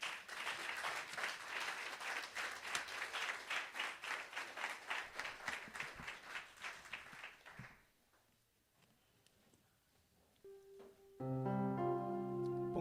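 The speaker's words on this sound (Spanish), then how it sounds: "Dan un aplauso al Señor." A church congregation claps steadily and rhythmically for several seconds, fairly close, during a Wednesday evening service. The clapping then fades into a quiet room, and an organ or keyboard chord enters near the end.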